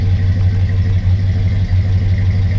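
A 1960 Plymouth Fury engine idles steadily up close, a loud, even low rumble with a continuous mechanical clatter and no break across the whole stretch.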